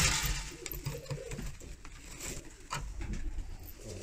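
Pigeons coo repeatedly inside a Baska pigeon coop, the low murmuring calls close and continuous, layered with soft shuffling and faint rustling noise and no talking.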